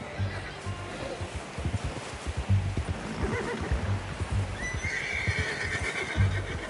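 A horse in Red Dead Redemption whinnies loudly, with hooves clip-clopping steadily on hard ground and a rustling outdoor ambience behind.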